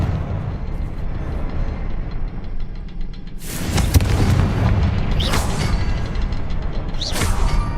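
Confringo fire-spell blasts in the video game Hogwarts Legacy, a few loud booming explosions with crackling debris over a low rumbling background, the later bursts coming in quick succession.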